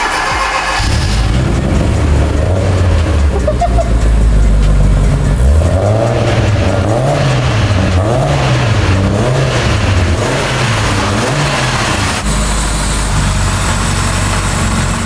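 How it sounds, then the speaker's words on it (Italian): A Fiat Punto GT engine cranks and catches, then revs up and down repeatedly in rising and falling swells before settling back to a loud idle, close by. "ma almeno la punto GT per sentire come gira"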